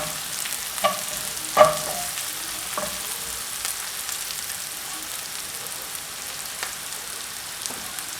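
Chopped onions, a handful cut fairly coarse, fry steadily in a pan for a King Fish curry, giving a soft continuous sizzle with a few sharper stirring knocks near the start. No voices are heard.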